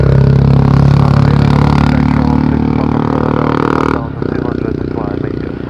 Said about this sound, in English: you want some motorbike sounds too? Look at that.